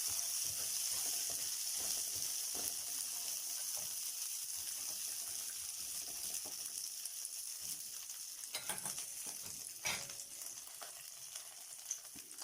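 Popcorn kernels stirred in hot oil in a pot at home, giving a continuous soft sizzle and bubbling with scattered scrapes and clinks of the spoon, quieter toward the end.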